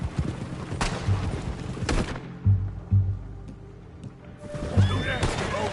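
Gunshots from the video game Red Dead Redemption 2, several loud separate blasts spread over a few seconds among horse sounds and other game noise.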